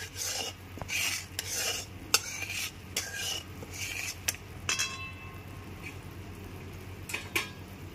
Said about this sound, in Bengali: লবণটা দিয়ে খুব ভালো করে মিশিয়ে নিলাম